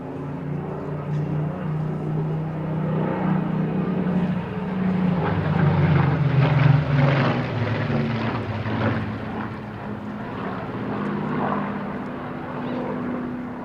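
Propeller-driven fighters, among them an elliptical-winged Battle of Britain type flown by Royal Air Force pilots, pass at the Eastbourne airshow, a throbbing piston-engine drone that swells toward the middle and then recedes, with wind buffeting.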